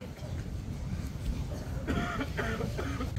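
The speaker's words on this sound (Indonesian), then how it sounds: "suara batuk itu di mana-mana ya, di belakang saya, di depan, di samping juga banyak ya" Scattered coughs sound from several people among a crowd of pilgrims inside the Prophet's Mosque in Medina, some near and some farther off, over a steady murmur of voices.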